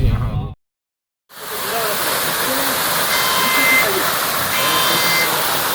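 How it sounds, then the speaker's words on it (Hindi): Powerful waterfall in Kohistan between Patan and Dassu, a loud, steady broadband roar of rushing water that starts abruptly after a brief silence and runs unbroken, close and dominant. "ऊपर से कहीं से इतना ज़बरदस्त जोरदार आबशार आ रहा है"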